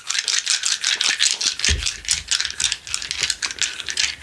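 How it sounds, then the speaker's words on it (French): Divination dice being handled and shaken, giving a rapid, steady run of close, dry clicking and rattling that continues throughout with no speech. "je vais prendre aussi les dés."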